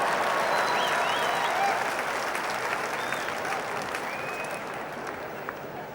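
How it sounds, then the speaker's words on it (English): After the 1990 Wimbledon men's final between Stefan Edberg and Boris Becker, the standing crowd applauds the winner in a dense, sustained roar of clapping, with scattered whistles and cheers that slowly ease off. "And everybody standing here to acclaim the winner."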